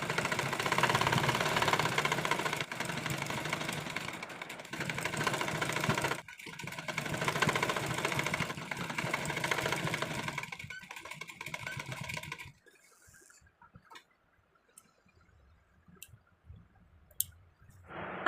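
A sewing machine stitches lace around a kurti neckline, whirring steadily in bursts for about twelve seconds with short pauses, then stopping, leaving near silence broken by a few faint clicks.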